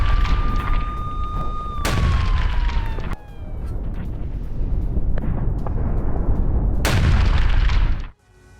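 Explosions from a guided bomb strike on Russian troops near Avdiivka: a high whine falls into a heavy blast, followed by sustained rumbling roar and a second big boom before an abrupt cutoff.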